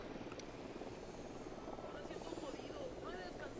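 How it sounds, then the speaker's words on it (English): A helicopter approaches in Ghost Recon Wildlands, a faint, continuous rotor rumble and whir that sits low and distant beneath the game's other sounds. "Chopper incoming."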